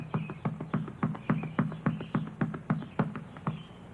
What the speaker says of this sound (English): You hear that? Indian war drums.